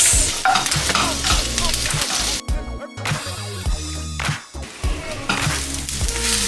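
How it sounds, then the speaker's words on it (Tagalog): Chicken gizzard frying in about two tablespoons of oil in a pan, a steady loud sizzle broken by brief stirring gaps, with background music running throughout. "i-fry natin ang gizzard for 10 minutes"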